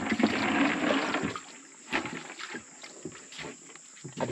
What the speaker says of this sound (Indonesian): Airnya cepat banget isinya.